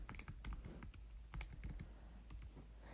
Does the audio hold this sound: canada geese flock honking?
no